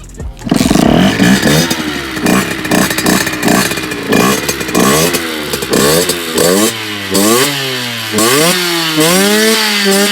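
A Masai 50cc motorcycle fitted with a Doppler Vortex cylinder runs close by. The two-stroke engine sputters at first, then revs up and down repeatedly in rising and falling sweeps, loud and with no voices.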